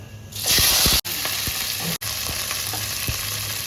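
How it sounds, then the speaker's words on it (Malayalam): Mustard seeds, dried red chilies, green chilies and curry leaves are tossed into hot oil and sizzle and fry close by, with a bright burst as they hit the oil and a steady crackle after, broken by two brief cuts. "എണ്ണ ചൂടായി ഇനി കടുക് ഇട്ട് കൊടുക്കാം ഇത് രണ്ട് വറ്റൽ മുളക് നാല് പച്ചമുളക് കറിവേപ്പില ഇത് ഇത്രയും ഇതിലേക്ക് ഇട്ട് കൊടുക്കുക"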